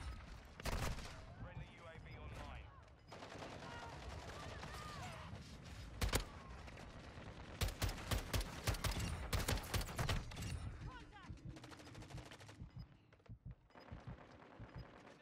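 Shotgun fire in Modern Warfare 2, an SO-14 setup in use, with repeated sharp gunshot bursts coming in clusters, some rapid volleys near the end, loud and close, and no talk over them.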